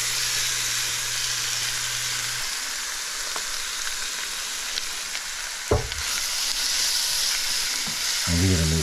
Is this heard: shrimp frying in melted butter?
yes